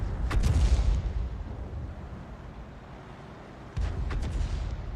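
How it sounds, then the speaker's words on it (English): Tank cannon shots in World of Tanks: two heavy booming blasts, one at the start and another near the end, each with a rumbling tail. "it looks like he's firing as he's retreating"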